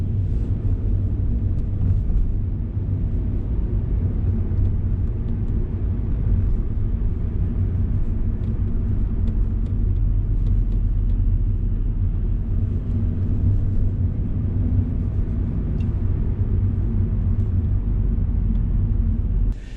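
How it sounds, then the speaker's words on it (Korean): A car driving straight and accelerating on a city road with a crane ahead, heard from inside as a steady low engine and road rumble that stays even and constant, with no talking. "예, 그대로 직진합니다. 가속 페달 밟고."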